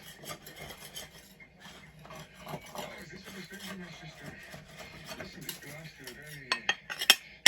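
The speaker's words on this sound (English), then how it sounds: "I put it in the freezer, and I'm just breaking it up in little pieces, or you can just, you know, grate it." Frozen venison is broken up and grated with a small spatula on a plate, making continuous close scraping and rasping strokes with occasional clinks against the dish.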